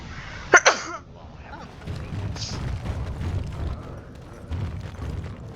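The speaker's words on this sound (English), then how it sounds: "I'm gonna sneeze, I'm so sorry." A quick sneeze bursts out near the start, a sharp double spasm, followed by low muffled background sounds and murmuring.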